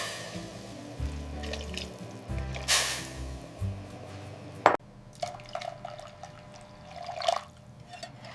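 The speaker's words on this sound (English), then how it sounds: "Adding fresh water for the broth." Fresh water is poured into a cooking pot of tomato and pineapple soup base with shrimp and lotus stem, giving close splashing and gurgling pours in uneven bursts with a brief sharp knock midway.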